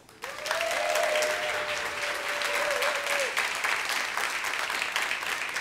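A debate audience bursts into loud, sustained applause that starts abruptly and stays dense and steady throughout, with a brief tone heard early on.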